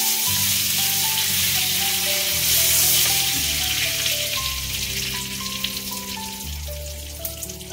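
Oil and onion fry in a very hot pan for a bitter gourd dish, giving a steady, close sizzle throughout, with faint stirring and a low tonal hum underneath.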